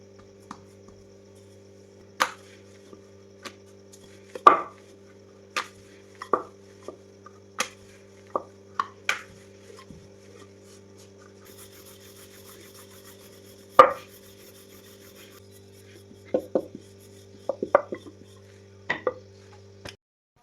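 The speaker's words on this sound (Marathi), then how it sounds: "चाकूनं मी ही शंकरपाळी अशी कापून घेतलेली आहे" Rolled shankarpali dough being cut with a knife on a board, producing sparse, sharp, isolated taps scattered irregularly over quiet background hum, close and fairly faint.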